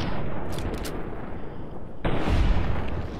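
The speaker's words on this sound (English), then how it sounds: "I hear gunfire." Heavy gunfire in the video game Fallout: New Vegas roars continuously, a dense rumbling barrage with a louder burst of shots partway through, no voices.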